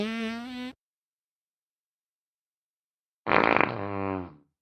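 Two loud, close burps from a person who took baking soda, a short one at the start and a longer rumbling one after a silent gap.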